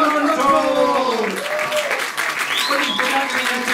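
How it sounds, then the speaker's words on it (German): An audience gives applause for a performer at an anniversary event, clapping running beneath a loud voice speaking over it throughout. "Ein großartiger Applaus an Pächter Pablo"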